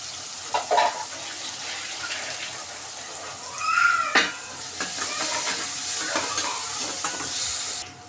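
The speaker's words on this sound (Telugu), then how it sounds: "ఆనియన్స్ ఇలా ఫ్రై అయినాయి కదండి" Thinly sliced onions and green chilli fry in a pan, a soft continuous sizzle with scattered spoon clinks and scrapes, one louder clatter near the middle and a faint voice-like sound in the background.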